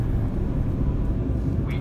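Steady, dense roar of cabin noise inside an Airbus A380 in cruise flight, a constant low rumble with no obvious changes over a couple of seconds.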